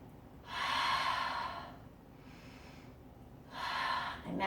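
Two long, loud exhaled breaths during a yoga flow, each lasting over a second with a quieter pause between them, close to the mic and with no talking.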